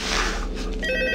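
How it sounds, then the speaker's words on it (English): A telephone rings in Five Nights at Freddy's 2, a loud, close ringing tone over a dense, steady background hum. "Mute the phone call."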